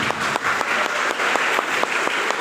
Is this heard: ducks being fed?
no